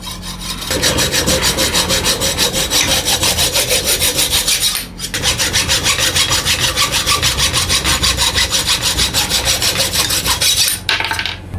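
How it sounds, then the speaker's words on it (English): A hacksaw cuts through a carbon mountain bike handlebar in fast, even back-and-forth strokes, loud and close, with a brief pause midway and another near the end. "We're just going to get our hacksaw, and we're going to make it happen."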